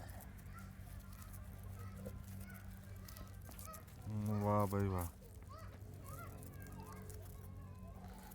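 Farmyard fowl calls, with a loud harmonic honking burst in the middle, likely chickens rather than the geese suggested, heard over steady background noise and a man's brief speech.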